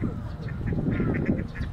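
A duck quacks in a Sapporo park while flying overhead, several short nasal calls in quick succession mixed with excited voices talking close by.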